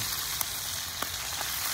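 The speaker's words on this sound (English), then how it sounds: "It's sizzling" Bacon sizzling in a hot pan, a steady close hiss of frying fat with a few faint pops, continuous and alone with no talk.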